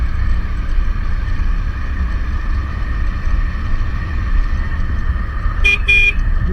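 Car driving along a scenic tree-lined road, a steady engine and road hum close by, with a short horn toot near the end.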